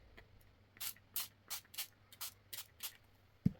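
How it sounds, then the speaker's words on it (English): About nine quick, crisp spritzes from a spray bottle misting water onto watercolour paper in an uneven rhythm, close and fairly quiet, followed by a brief tap at the end. "Maybe I will spray it a little bit."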